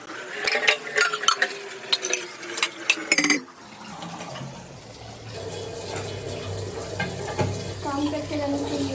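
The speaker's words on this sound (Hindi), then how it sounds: "तो देखो, ये इतना सारे बर्तन है, ये मुझे सारे साफ़ करने हैं।" A big pile of household pots and utensils being washed by hand: brisk clinks and clatter of metal close by for a few seconds, then steady running and splashing water.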